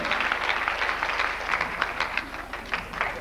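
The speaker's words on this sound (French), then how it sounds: "Et vous allez applaudir aussi quand même" Theatre audience applauding at the close of a play, a dense, continuous wash of clapping that stays fairly loud and even throughout the short stretch.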